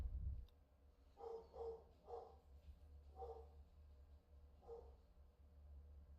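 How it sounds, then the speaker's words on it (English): A pet dog barks in five or six muffled bursts, spaced about half a second apart, from another room, likely at the mail arriving, over low room rumble. "I'll let my dog finish."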